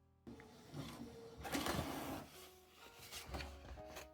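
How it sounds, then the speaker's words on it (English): An HBMV Photo 6234 inkjet printer printing a sticker sheet, with soft mechanical whirring, rubbing and shuttling strokes in several bursts, quiet and close, with no voices. "I'm using the HBMV Photo 6234, which is an inkjet printer."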